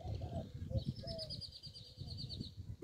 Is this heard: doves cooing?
yes